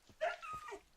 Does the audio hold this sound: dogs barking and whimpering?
yes